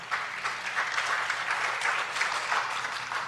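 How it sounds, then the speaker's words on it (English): Sustained, even applause from an audience at a speech at a Hawaii book and music festival, a steady dense crackle of many hands clapping for the full stretch with no voices over it. "Round of applause"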